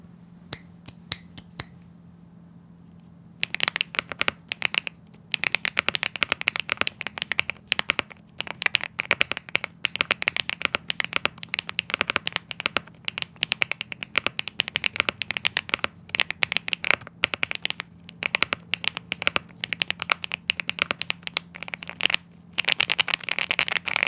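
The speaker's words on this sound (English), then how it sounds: "let's do the sound test of my keyboards" Rapid clacking of mechanical keyboard keys on a Rainy 75, dense bursts of crisp clicks with brief pauses between runs, close and steady over a faint hum.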